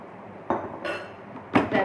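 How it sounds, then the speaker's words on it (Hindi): Kulfi mixture going into a bowl, with a few sharp clinks of dishes and utensils against a quiet kitchen background, close and brief. "अब हम इसको बाउल में डालते हैं।"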